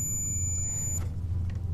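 Continuity buzzer of a multimeter probing for an earth line in household wiring, one steady high-pitched beep held for about a second and then cut off, loud and close over a constant low hum.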